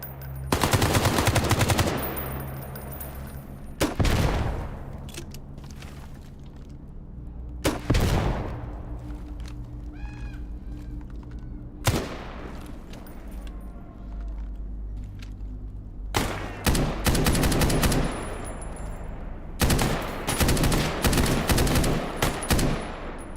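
Automatic gunfire with heavy recoil in the shooter game Military Invictus, loud close bursts of rapid machine-gun fire broken by short pauses, some bursts long and sustained, heard without talk.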